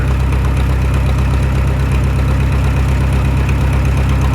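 New tractor's diesel engine idling, a loud, steady low rumble with even knocking pulses, close up and unbroken throughout.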